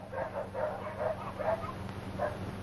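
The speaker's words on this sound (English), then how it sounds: "What's all the barking about?" Dogs bark in a quick run of yips and bow-wows on a stormy night, sounding moderately distant and muffled over a steady low hum of background noise.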